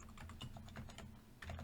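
Rapid, close clicking of a computer keyboard being typed on, a quick run of light keystrokes with a firmer press at the end, quiet and without talk.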